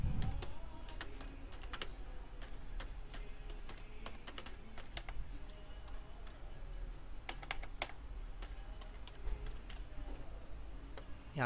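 Computer keyboard typing, a string of light irregular clicks and taps at close range over a steady low background hum, with no one talking.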